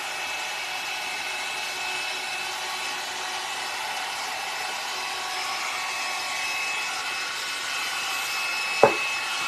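A hair dryer blows steadily and close during a volumizing blow-out on hair, a constant airy whir with a single brief click near the end.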